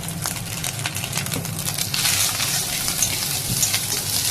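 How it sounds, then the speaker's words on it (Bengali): Leftover rice with vegetables stir-fried in a pan, a close sizzle with repeated scraping and tossing strokes from a spatula, growing slightly louder midway; no talking. "আর এখন সবজিগুলো দেখো দিয়ে দিলাম, আবারও ভালোভাবে একসাথে নেড়ে নেব।"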